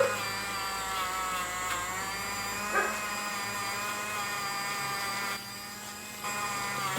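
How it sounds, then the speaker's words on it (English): Rotary tool fitted with a small wire brush tip, run on a medium setting to scrub old coating off a part, a steady high-pitched whine holding throughout with a brief dip near the end, no talking. "Put the little wire brush on the tip."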